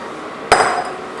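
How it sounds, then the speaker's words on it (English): Sautéed seafood lands in a cooking pot for a breadfruit seafood cook-down, giving one sharp clattering impact followed by a brief sizzling, rattling tail, close and alone. "And now we're going to add all of our sauteed seafood here."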